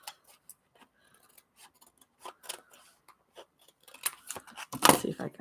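Scissors make a series of thin cuts through a magazine or journal page for a collage, giving quiet, close snips and paper rustles that build into a louder run of rapid cutting at the end.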